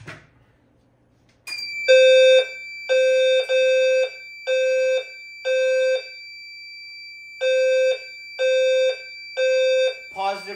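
A fire alarm bell rings in repeated bursts over a steady electronic tone, loud and close, in a behind-the-scenes New Year's sound-off setting, with a brief voice at the very start and end.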